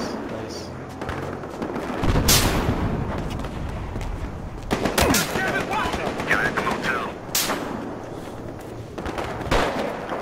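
Gunfire in the Battlefield Hardline video game, Dust Bowl map on conquest mode: dense, loud bursts of shots and sharp cracks throughout, with a few heavier blasts standing out, under a steady din of game noise.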